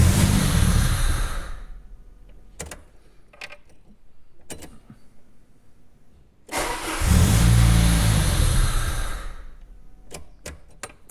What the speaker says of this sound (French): Elle démarre. J'ai surtout un souci de ralenti là.